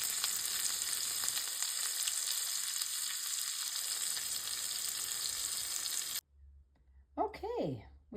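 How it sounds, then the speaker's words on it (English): Diced jalapeno frying with bacon, a continuous close sizzle and crackle for about six seconds, then cut off abruptly before a short burst of speech. "I'm just going to take some of the diced jalapeno and cook it up a little bit"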